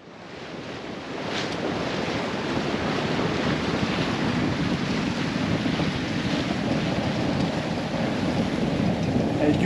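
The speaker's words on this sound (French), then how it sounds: "Là, dans la baie, on est déjà à 20 nœuds de vent." Strong wind of about 20 knots roars steadily over a bay near Delos, a dense rushing hiss mixed with the wash of waves, loud and unbroken throughout.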